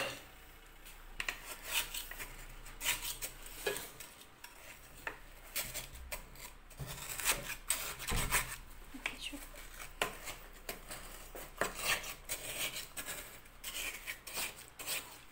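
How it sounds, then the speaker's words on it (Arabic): Semolina is being mixed in a bowl with a utensil for homemade honey, giving irregular scraping, rubbing and clinking strokes at close range, fairly quiet with brief pauses between bursts. "هنا صافي غادي نخلط هاد سميتو"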